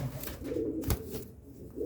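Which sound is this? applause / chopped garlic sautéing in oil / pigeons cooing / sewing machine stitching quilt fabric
pigeons cooing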